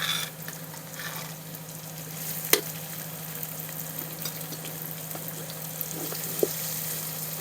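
Minced pork and chili paste stir-fried with fried garlic sizzle steadily in a pan, a continuous close crackle with occasional scrapes and clinks of the spatula, no voices.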